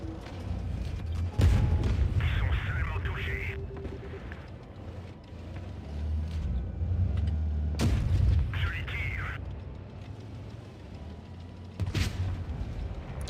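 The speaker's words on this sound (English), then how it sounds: "Did he just shoot?" Tank guns firing in World of Tanks Blitz during a pro tournament match: three heavy booming shots spaced several seconds apart, each followed by rumbling engine and battle noise, with a commentator talking throughout.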